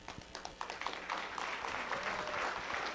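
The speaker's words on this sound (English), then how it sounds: "So, Bob, we applaud you." Applause at a public briefing in Hawaii starts as a few separate claps and quickly swells into a steady, fairly quiet patter of clapping from a small audience.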